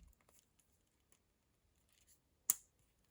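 On a Zenith Pilot Big Date Flyback ceramic watch, a quick-release strap clicks back into place. It makes a single short, crisp click in near silence, after faint handling rustles.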